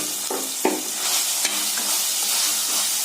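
Ground masala powder being stirred into brinjal pieces cooked in tamarind, a steady hiss of sizzling with a few sharp scraping strokes of the spoon against the pan, close and fairly loud.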